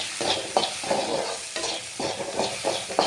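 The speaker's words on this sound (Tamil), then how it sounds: "அதை போட்டு நம்ம நல்லா ஃப்ரை பண்ணலாம்" Cooked sambar dal frying in a pan, giving a steady close sizzle broken by repeated scraping stirs, with no talking.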